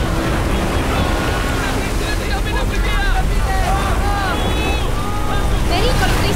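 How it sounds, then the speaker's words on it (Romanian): Stormy sea waves surge and crash around a small boat, with heavy wind rushing over the water in a loud, continuous roar and scattered shrill cries rising above it. "O să pierdem controlul bărcii în valurile astea!"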